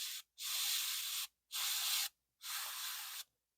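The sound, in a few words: airbrush spraying paint for skin tone shadows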